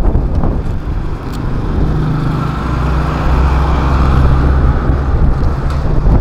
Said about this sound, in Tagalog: Sobrang lakas ng hangin, no?